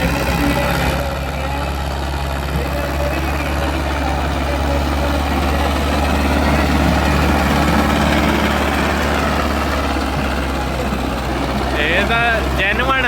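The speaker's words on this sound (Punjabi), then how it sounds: "ਓਰੀਜਨਲ ਚੱਲ ਰਿਹਾ ਟਰੈਕਟਰ ਇਹਨੂੰ ਕਹਿੰਦੇ ਆ ਬਿਨਾ ਧੂਵੇਂ" A tractor engine runs steadily and loudly throughout, a constant low rumbling idle with broadband mechanical noise, near and continuous, with faint voices in the background.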